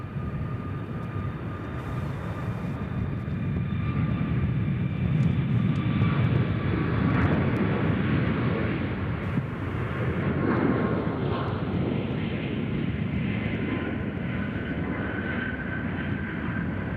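A WestJet airliner departs Nashville International Airport, its jet engines a broad, sustained roar from a distance that swells and holds steady across the whole stretch.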